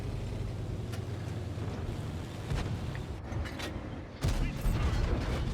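A T28 tank in World of Tanks rumbles with a low engine drone, then its cannon fires a single loud, abrupt blast near the end, followed by a sustained heavier rumble.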